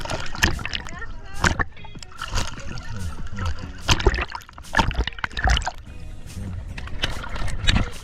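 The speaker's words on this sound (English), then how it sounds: "let's go kayaking now" A kayak paddle dips into the water off Antigua, making repeated irregular splashes and sloshes close by, with people talking in between.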